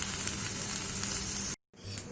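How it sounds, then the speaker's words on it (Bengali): An iron kadai heating with a little oil gives a steady, close sizzle that cuts off briefly, then comes back softer. "এখন হালকা তেল দিয়ে এটাকে ফ্রাই করে নিচ্ছে লোহার কড়াই"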